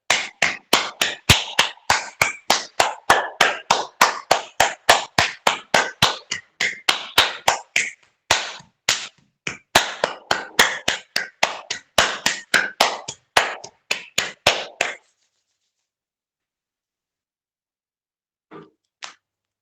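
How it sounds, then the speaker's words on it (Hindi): A yoga session group claps hands in a steady, sharp rhythm for about fifteen seconds, each clap crisp and close, then stops abruptly, leaving silence broken by one faint late tap. "और बजाएंगे तालियां।"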